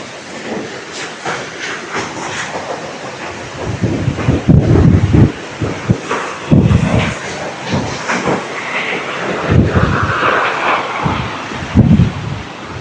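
A large waterfall pours down a high hillside near Rishikesh, Uttarakhand, giving a steady, loud, broadband rushing roar that swells in places, with no voices over it.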